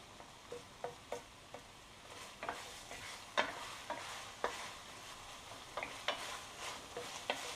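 Onions fry in oil for a chicken and olive tagine. A soft, quiet sizzle runs underneath while a utensil stirs and scrapes the pan in irregular light taps.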